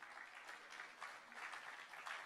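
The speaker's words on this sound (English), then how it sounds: "So clap for this guy." An audience claps to welcome a speaker at an International Animation Day 2025 event, a faint, steady patter of many hands that holds for a couple of seconds with no voices over it.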